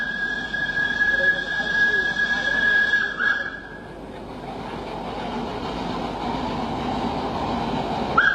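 An old tram rolls along a Surabaya street near the harbour, a steady rumbling rail noise with a bright whistle-like tone early on, while a voice speaks over it throughout.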